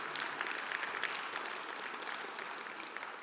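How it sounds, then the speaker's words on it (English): An audience claps steadily at an evening recovery gathering, a dense, even wash of applause that holds at moderate level without a break. "How about another round of applause for Ron and the work that he's done over his lifetime?"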